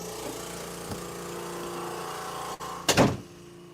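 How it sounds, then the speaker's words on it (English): A workshop air compressor runs as a steady mechanical hum, then a sudden loud surge bursts in close by near the end before settling back. "The good old air compressor kicking in."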